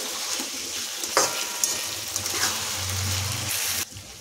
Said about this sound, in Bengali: এখন এটা ভালো করে ভেজে নিতে হবে।